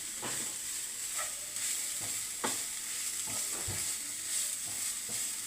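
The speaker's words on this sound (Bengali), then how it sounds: "এই দেখুন গাজরটা একটু ভাজবো বন্ধুরা" Grated carrots fry in ghee in a pan for a jaggery gajar halwa, producing a constant hissing sizzle with soft intermittent spatula strokes, fairly even and unbroken throughout.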